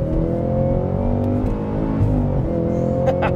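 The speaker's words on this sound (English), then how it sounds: "So you just keep your foot planted, clutch in, next gear, and keep going." 2023 Cadillac CT5-V Blackwing manual sedan with a 668 hp engine under hard acceleration, a loud, steady, rising engine drone close to the listener, with no talking.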